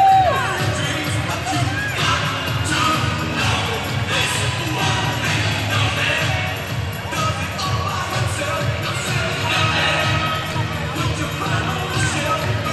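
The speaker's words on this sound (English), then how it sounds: "Fans having a good time, jumping up down, cheering for a t-shirt" Basketball fans at a Salem Capitals vs Vancouver Volcanoes game cheer and jump for a t-shirt, a dense, continuous roar of crowd noise with voices mixed in.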